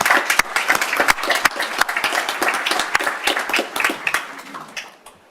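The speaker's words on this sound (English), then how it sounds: "Let's give them a round of applause." An audience at a college signing-day ceremony claps for sponsoring companies: loud, dense applause with sharp individual claps, building briefly and then tapering off toward the end.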